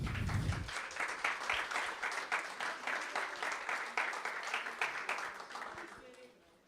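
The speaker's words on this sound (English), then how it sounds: "Give Andrea a round of applause." Audience applause at an eTwinning school leadership workshop, steady overlapping clapping with a brief low voice at the start, holding level for several seconds before fading out.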